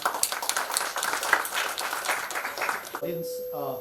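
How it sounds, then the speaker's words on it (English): Audience applause welcoming a chartered accountant speaker at a valuation methodologies session, a dense crowd clapping for about three seconds before it stops and a voice begins over a faint tone. "So with a huge round of applause, let's welcome"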